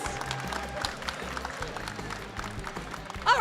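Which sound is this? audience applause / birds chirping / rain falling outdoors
audience applause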